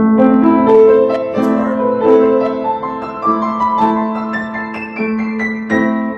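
Piano notes played slowly in a measured sequence, each tone ringing and overlapping, with a brief spoken remark over the opening.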